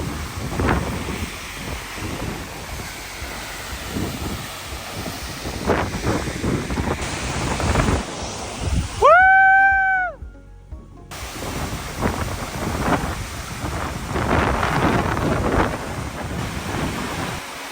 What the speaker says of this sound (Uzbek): biz Qizilnav sharsharasiga keldik.